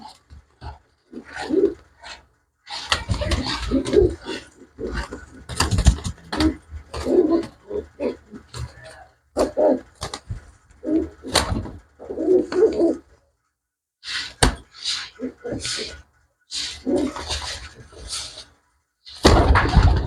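Newly arrived purebred pigeons coo in short separate bursts with silent gaps between them, close and fairly loud, with a few sharper noises scattered among the calls.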